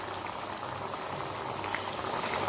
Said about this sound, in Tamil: இப்போ குழம்பு நல்லா கொதி வந்துருச்சுங்க.